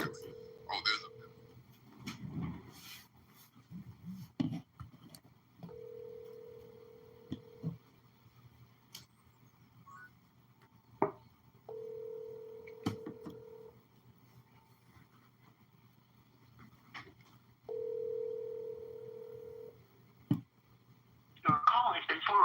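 Phone call tones on the line before forwarding to voicemail: several steady beeps lasting about two seconds each, spaced apart at low level, with scattered clicks and faint noise in between.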